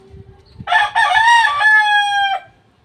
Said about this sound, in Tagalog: Magandang manok yan.